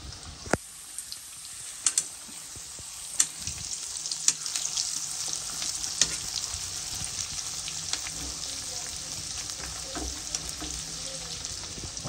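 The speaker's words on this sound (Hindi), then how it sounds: "ये फ्राई हो रहा है" Chicken pakora deep fries in hot oil, giving a continuous bubbling sizzle with a few sharp clinks and pops scattered across it, close by and without speech.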